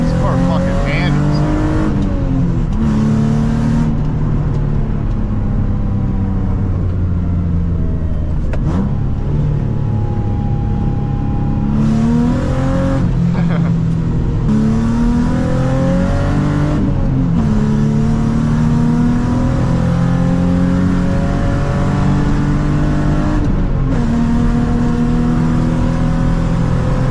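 A modified Nissan G35 drives and accelerates up a hill, its engine revving through gear changes as the pitch climbs and drops repeatedly, loud and continuous from inside the cabin with brief speech over it.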